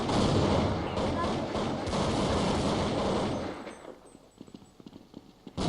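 Counter-Strike 1.6 gunfire comes in loud, rapid bursts that pack the first four seconds, then thins to a few scattered sharp shots, with game chatter underneath.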